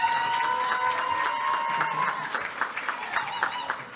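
Gala audience applauding a scholarship recipient as the name is announced, steady dense clapping with cheers and crowd noise, fairly close and sustained, with voices mixed in.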